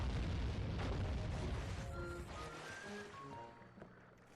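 Deep, heavy booms from pirate ship cannons in Sly 3: Honor Among Thieves roll out in a dense, rumbling wash that fades toward the end, joined by scattered tonal game sound effects.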